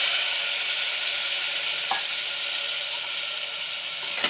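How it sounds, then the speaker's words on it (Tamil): Cauliflower and green peas kurma being stirred in a pressure cooker, a steady hiss of cooking with a few faint scrapes of the spoon against the metal pot. "எல்லாத்தையும் சேர்த்து நல்லா கிளறி விடுங்க"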